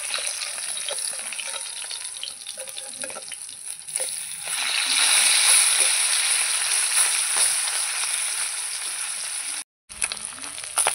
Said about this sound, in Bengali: মাছটা এবার উল্টে দেব।